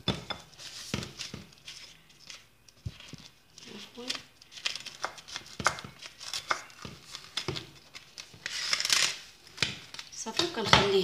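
Crinkly plastic food wrap is pulled and stretched over a bowl of dough in a home kitchen, with rustling and crackling bursts coming close and fairly loud, strongest near the end, between quiet pauses.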